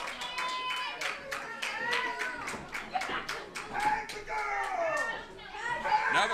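Loud wrestling crowd at a live show, a dense wash of cheering, shouting and children's voices with rapid clapping and slapping bursts throughout, sustained and close.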